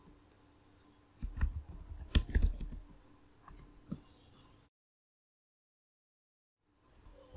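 Short bursts of key clicks on a computer keyboard while a password is typed, a quick cluster of taps followed by a few scattered presses, then silence before faint sound returns at the end.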